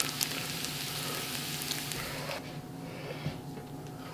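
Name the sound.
smoked bacon frying in a pan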